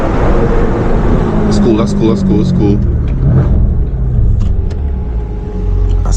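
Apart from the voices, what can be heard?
BMW M550i exhaust burbles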